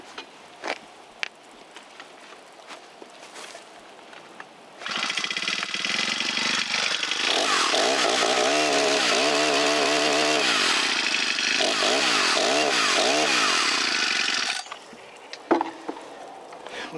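A Senix 49 cc four-cycle chainsaw gives a few faint clicks before its engine restarts. It revs loudly with rising and falling pitch for about ten seconds, then cuts off abruptly.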